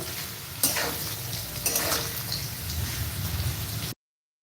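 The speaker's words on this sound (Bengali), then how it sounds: "এই দেখুন নাড়াচাড়া করে নিচ্ছি ভালো মতো" Chow mein ingredients with chopped chilli and onion stirred in a hot pan, a soft continuous crackling sizzle broken by a few sharp spatula scrapes, then an abrupt cutoff.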